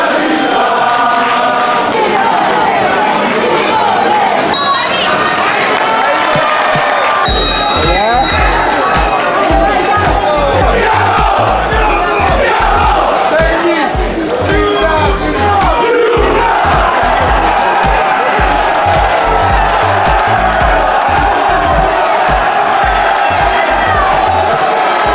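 Football crowd in a stadium built inside an F1 circuit, home and away fans roaring, chanting and whooping continuously and loudly as players come out, with drums and shouting voices throughout.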